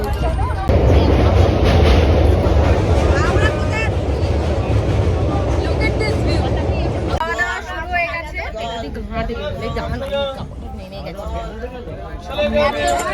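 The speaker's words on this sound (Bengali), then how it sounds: "আমরা এখন ট্রেনে উঠে গেছি" Inside a moving passenger train bound for Tarapith, a loud, constant rumble of the carriage runs throughout, while people chat nearby, their voices growing more prominent in the second half.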